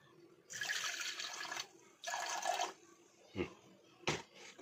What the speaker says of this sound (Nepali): अब यसमा पानी हाल्छु